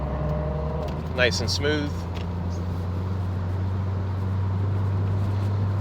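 A supercharged 2005 Corvette C6 driving and cornering, a steady low engine drone heard from inside the car, with someone speaking briefly over it.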